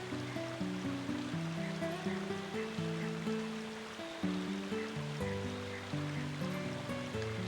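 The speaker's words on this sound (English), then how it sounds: "This water is like turbulent." Turbulent water rushes continuously in the Dark Cloud 2 video game, a dense, steady wash that sits under layered sustained game music with no break.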